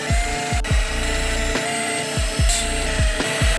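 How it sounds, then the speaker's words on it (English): A drill with a 6mm HSS bit works into a pipe for an aquarium spray bar, giving a whining, grinding tone with repeated short bursts of pressure roughly every half second, loud and close. "There's only so many times you can see a drill bit go for a pipe"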